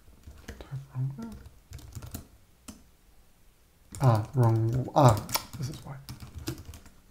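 Quiet clicking keystrokes on a computer keyboard, tapped in short irregular bursts while someone talks over them.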